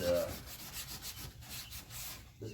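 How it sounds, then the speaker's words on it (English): Sanding the body of a 1969 Dodge Dart before paint, a soft, rhythmic scraping of repeated strokes, fairly quiet and close, with no voices. "Making sure the roughness is sanded out"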